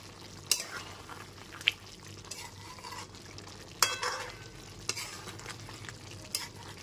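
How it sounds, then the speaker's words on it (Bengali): Chicken curry is stirred in a pan from top to bottom, with a soft simmering sizzle broken by a few sharp metallic scrapes and knocks of the spoon against the pan, close and fairly quiet. "ওপর থেকে নিচে একটু খুব ভালো মতো নেড়ে নিচ্ছি"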